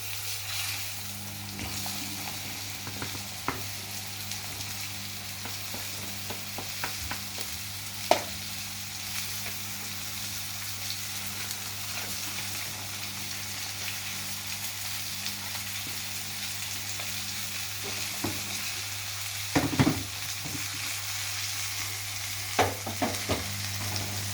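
Okra frying in oil for a curry gives a continuous low sizzle, with occasional spatula scrapes and taps as the pieces are tossed and stirred in the pan.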